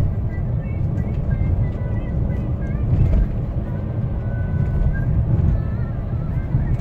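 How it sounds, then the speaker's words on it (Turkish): A Nissan Qashqai rolls over speed bumps, its steady road rumble and cabin drone broken by a couple of heavier jolts, heard from inside the car with someone talking over it. "Böyle sarsıntılı bir yerden geçiyorum."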